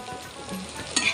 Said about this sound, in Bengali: এদিক দিয়ে আমার পাবদা মাছ ভাজা হয়ে গেছে,